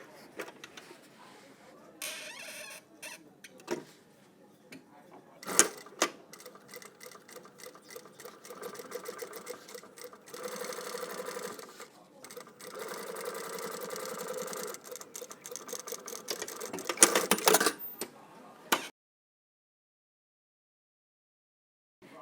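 Sewing machine stitching along a line to join the pocket bags of a trouser with a single jet pocket, running in bursts of steady whirring with short pauses and handling noises between runs, close and fairly loud.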